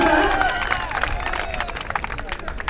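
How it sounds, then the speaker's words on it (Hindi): Audience applause at a BSF passing-out parade cultural program in Hazaribagh, with clapping and crowd hubbub rising under a voice speaking over a loudspeaker. "एक बार जोरदार तालियों से उनका हौसला है।"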